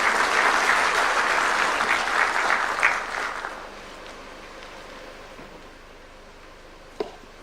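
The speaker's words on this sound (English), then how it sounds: "Can we clap for Dr. James Mwangi?" A conference audience in Muranga, Kenya applauds loudly for about three seconds, then the clapping fades to a quiet room hum with one sharp knock near the end.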